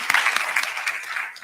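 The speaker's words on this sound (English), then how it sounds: "definitely want to give both of our candidates a round of applause" An audience at a community debate in Benton Harbor applauds the two candidates, a short stretch of steady, fairly even clapping with a few sharper claps standing out.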